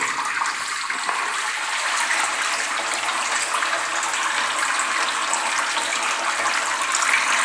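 Water is poured in a continuous, even gush into a container of barley being soaked for sprouting, a loud, close rushing stream lasting about seven seconds with no talk.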